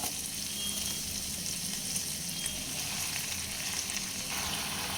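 Chopped pumpkin greens tumble into hot oil in a pan for a vegetarian chorchori, producing a continuous, even frying sizzle, close and moderately loud, with no talking.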